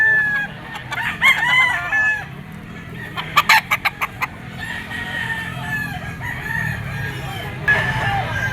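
A Kelso bloodline bull stag rooster at a Grotto pet market crows loudly and clucks repeatedly close by, with a quick burst of sharp rhythmic calls midway and other fowl and market noise in the background.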